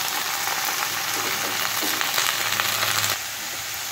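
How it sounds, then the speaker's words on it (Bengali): Vegetable stems, radish and potato frying in hot oil in a pan, a loud, dense, continuous sizzle up close that drops to a softer hiss near the end. "এবার আমি এখানে ডাঁটাগুলো দিয়ে দিচ্ছি। মূলো, আলু সবটাই দিয়ে দেবো।"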